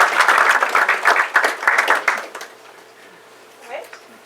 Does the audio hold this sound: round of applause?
yes